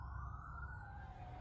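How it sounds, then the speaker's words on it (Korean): A police car siren wails faintly with a sliding tone, distant and steady over a low rumble of background noise for a brief moment. "그때 카페 밖에서 경찰차의 사이렌 소리와"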